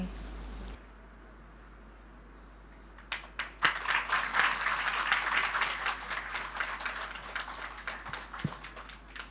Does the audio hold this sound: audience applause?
yes